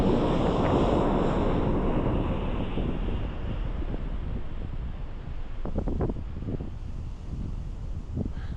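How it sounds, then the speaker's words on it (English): Ocean waves roll in on a beach near a lagoon at the Carmel River mouth, a steady surging wash heavily mixed with loud wind rumble on the microphone. "look at the waves come in"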